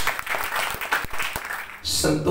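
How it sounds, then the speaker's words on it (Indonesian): Applause from a congregation at a church service, a short burst of clapping with a few distinct hand claps, giving way near the end to a loud voice. "Beri tepuk tangan terbaik buat Tuhan Yesus."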